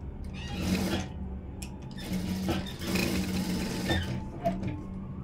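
A sewing machine stitches darts on a blouse, running in steady bursts with brief pauses and a persistent low motor hum throughout, close and moderately loud.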